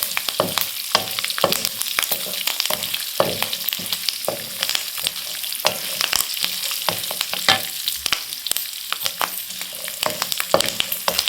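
Cashews fry in a pan for jeera rice, making a busy close sizzle broken by frequent clicks and scrapes from stirring that continue steadily throughout, with no talking.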